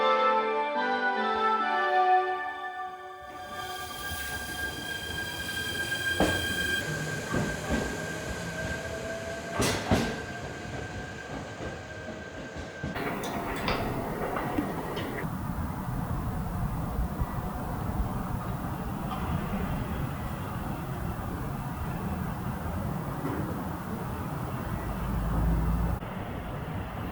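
A night train pulls away from a station near Karuizawa, Japan, and keeps running, with rumbling wheels, metallic squeals and rattling that settles into a steady rolling roar.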